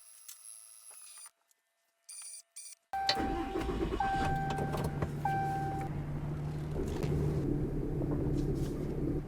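A truck towing a tool trailer starts up after a few faint clicks, then its engine idles and rumbles steadily close by as it prepares to back up, with a brief chime tone sounding over the engine.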